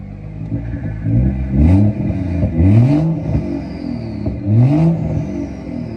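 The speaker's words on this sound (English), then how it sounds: "it makes sense to get a couple revs now the engine's warm" Stage 2 tuned BMW M240i engine revved hard while warm, several sharp rising blips in a row with a deep, loud exhaust note and brief crackle between pulls.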